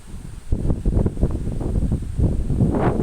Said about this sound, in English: That wind, it's like coming from the Arctic.